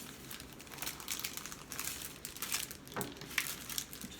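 Adhesive diamond wrap being handled for a mirror decor craft, giving steady close crinkling and rustling of plastic sheet with a few sharper crackles, and no talking.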